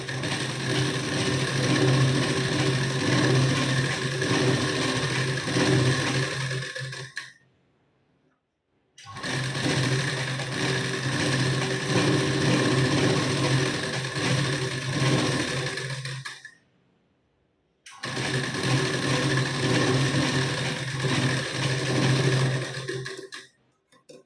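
A sewing machine topstitches a blouse waistband in three long, steady runs of about seven seconds each, close and loud, with brief silent pauses between and no talk.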